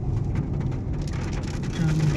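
Rain falls in a steady, dense hiss with heavy drops pattering close by, continuing without a break.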